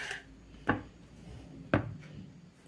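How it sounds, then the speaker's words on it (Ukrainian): Two distinct knife strokes slice through eggplant and land on the cutting board, spaced about a second apart, close and moderately loud against a quiet kitchen background. "Нарізаю баклажан."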